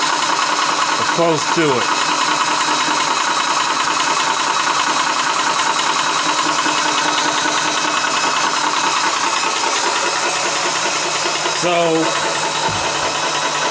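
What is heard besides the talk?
Vevor PCP 4500 PSI high pressure air compressor running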